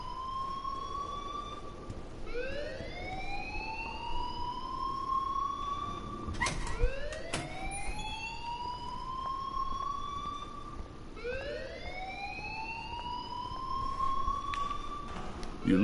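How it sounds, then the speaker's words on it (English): Wailing siren-like alarm from the video game Life is Strange, rising sweeps repeating roughly every three to four seconds, loud and continuous, with a couple of sharp clanks partway through and no speech. "please turn off that alarm since that's your job"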